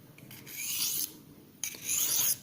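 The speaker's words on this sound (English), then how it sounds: "diamond coated blades, so very light strokes on the edge, raising a little bit the angle" A knife edge is drawn over a diamond-coated sharpener in light strokes, giving two separate bursts of dry rasping scrape, each lasting under a second, with brief quiet between them.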